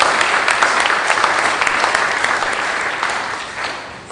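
An audience at a public forum applauds the governor, a dense, steady wash of many hands clapping together for about four seconds and tapering slightly toward the end.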